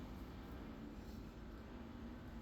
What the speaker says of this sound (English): I need some elevator music for the plane passing.